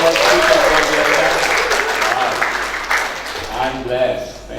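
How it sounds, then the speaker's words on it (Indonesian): A room full of people applauding at a church service, a loud continuous wash of clapping with a voice speaking over it toward the end. "Boleh kita tepuk tangan buat tim saya"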